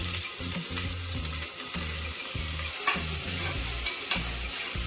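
Biryani masala fries in hot oil and ghee, giving a steady close sizzle broken by repeated rhythmic scraping strokes of a stirring spoon.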